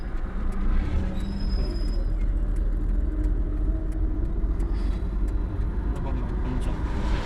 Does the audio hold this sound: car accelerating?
yes